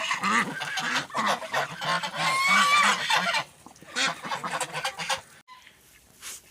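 Geese honk and cackle loudly in a noisy flock, overlapping calls for several seconds before dropping to a few scattered, quieter honks.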